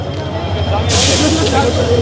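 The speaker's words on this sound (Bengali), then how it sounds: "উনি ট্রেনটা থামায় নিচ্ছে" A loud burst of air-brake hiss cuts in over a steady low rumble of a train coming to a halt.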